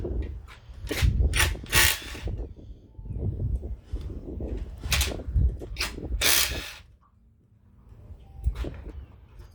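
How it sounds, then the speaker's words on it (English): A 13 mm wrench working loose the bolts on a car's torque tube: a run of sharp metallic clanks, clicks and scrapes in uneven bursts, close by, with a brief quiet stretch before a few last taps. "We're going to go ahead and get our 13 millimeter. We're going to bust these bolts out."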